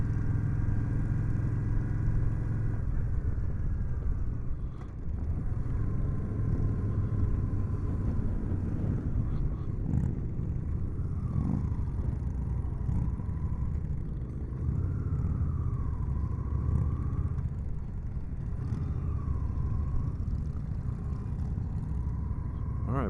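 Motorcycles riding along a road near Mt. Rushmore during the Sturgis rally, a continuous rumbling engine drone mixed with wind noise, heard up close, with some faint chatter underneath.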